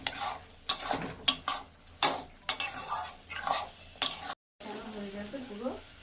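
A spoon stirs ghugni masala sautéing in a pan, with a series of sharp metallic clanks and scrapes over a soft sizzle. The clanks come close and fairly loud, followed by a brief pause and then gentler frying.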